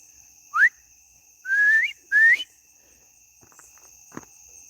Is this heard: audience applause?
no